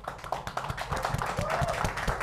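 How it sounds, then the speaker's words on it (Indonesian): Audience clapping for a comedian at a comedy show, scattered and moderately loud, with a busy, rhythmic background around it. "beri tepuk tangan yang meriah untuk David."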